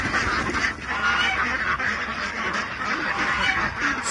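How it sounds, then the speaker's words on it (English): A dense, continuous chorus of quacking ducks and honking geese close by, many birds calling over each other without pause. "We got a couple of geese, too."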